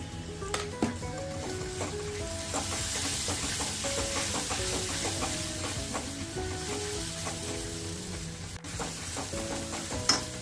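Green chilli thecha paste and a half spoon of turmeric sautéing in a pan for a drumstick vegetable dish, a continuous close sizzle with repeated scraping stirs and light clinks throughout, no voices.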